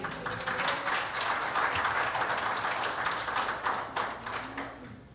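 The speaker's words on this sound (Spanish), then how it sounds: "Dele un aplauso a Cristo" Church congregation clapping in praise to Christ during a Sunday service, a sustained, moderately loud burst of many hands with some rhythmic accents, tapering off near the end.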